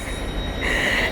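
Train wheels squealing on the rails, a sustained high screech growing louder in the second half over a steady low rumble of the moving carriage, heard from aboard the train.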